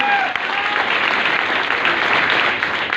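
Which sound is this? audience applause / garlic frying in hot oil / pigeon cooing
audience applause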